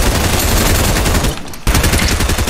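Rapid hand cannon gunshots in the Fortnite video game, loud dense bursts of fire that cut out briefly near the middle and then resume.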